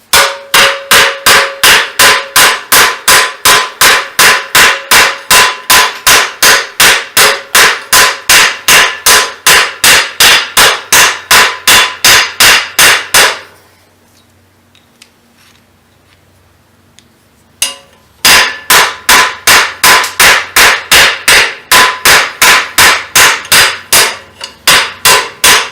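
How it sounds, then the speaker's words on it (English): A ball peen hammer whacks a piece of sheet metal in fast, steady, loud blows. The hammering stops briefly for a quiet gap, then resumes at the same rhythm. "I'm going to hold that piece of sheet metal right here over this, and I'm going to whack it with a ball peen hammer"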